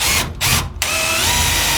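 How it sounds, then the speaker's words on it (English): A power drill drives screws into wood while building a shelf. It whirs loudly and steadily, with two brief dips early on, and keeps running close up to the end. "I'm putting screws in so the wood doesn't move around when I put my stuff up."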